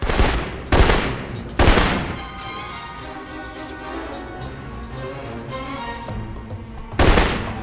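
Rifle gunfire in the Alpha Protocol video game: three loud, sharp shots in quick succession open the passage, followed by a steady rumble of game ambience, then one more close shot near the end.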